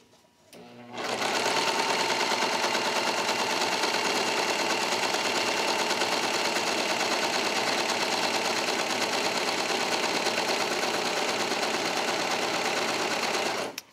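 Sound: serger sewing machine sewing shirt fabric

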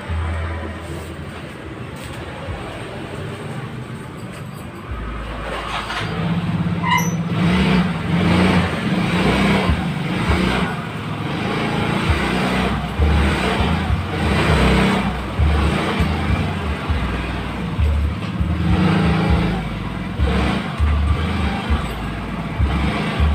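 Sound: Yamaha Mio Soul GT motorcycle engine revving during test ride

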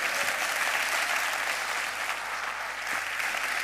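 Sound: audience applause at carnival murga performance

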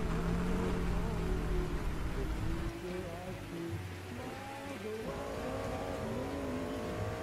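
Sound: race car engines starting in NASCAR 2000 video game

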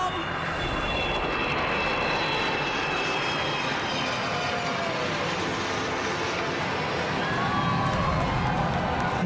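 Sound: Black Knights aerobatic jets performing bomb burst flypast

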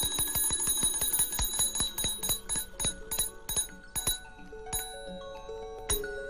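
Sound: electric telegraph bell ringing

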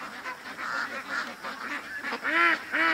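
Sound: ducks coming home along a creek

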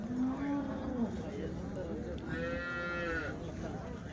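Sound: cattle mooing at Chintamani cow market

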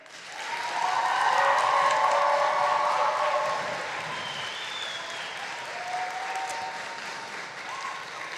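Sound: audience applause for both debate final teams

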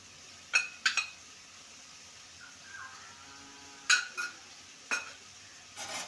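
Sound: sautéing ginger garlic paste in a pan

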